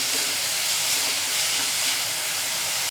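Finely chopped onions fry in a pan while being cooked until golden, giving a loud, steady hiss and sizzle close up that runs unbroken for the whole stretch and cuts off abruptly.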